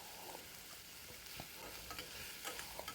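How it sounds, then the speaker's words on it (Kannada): Onions, two small ones, frying in a pan for a sprouted-bean palya, stirred with a spatula: steady close sizzle under repeated scraping and clacking strokes, no voices. "ಈರುಳ್ಳಿ ಕೂಡ ಚೆನ್ನಾಗಿ ಫ್ರೈ ಆಗಲಿ"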